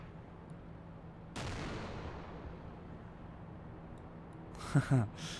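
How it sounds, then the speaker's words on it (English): Mortar fire in a RobZ Realism Mod war game: a sudden muffled boom with a long fading rumble, followed a few seconds later by a cluster of sharper bursts, all fairly faint and distant. "okay, we're under mortar fire"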